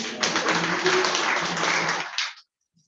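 An in-person audience at a development project launch event in Uganda gives a round of applause, a dense burst of clapping that holds steady for about two seconds and then stops abruptly into silence.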